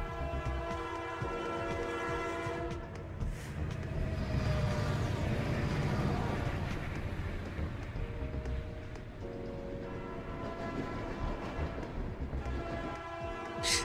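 Video game trains rushing past with loud horn and whistle blasts, rumbling wheels and rail clatter, several passes overlapping in a continuous roar that swells and fades.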